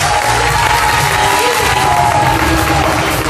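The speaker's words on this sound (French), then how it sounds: "On applaudit notre producteur" A campsite audience at an evening Paris-by-night stage show cheers and applauds in a loud, dense wash of clapping, whoops and crowd noise that carries on without a break.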